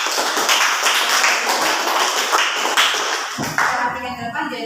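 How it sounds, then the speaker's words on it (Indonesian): Students in a classroom clap for a classmate, a dense patter of hand claps that thins and fades out toward the end, with some shuffling and a voice briefly audible. "tepuk tangan dulu untuk teman kalian ini"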